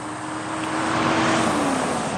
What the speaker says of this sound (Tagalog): Naglabasan ng mga sasakyan, maingay.